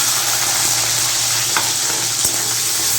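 Chopped onion and garlic frying in hot oil left from frying potatoes, a steady loud close sizzle with a couple of faint stirring scrapes.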